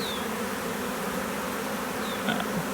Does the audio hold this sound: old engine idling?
no